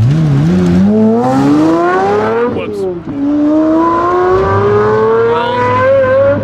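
Pagani and Koenigsegg hypercars launch together down a drag strip, their loud engines whining higher and higher, with a brief break midway as a gear changes before the pitch climbs again.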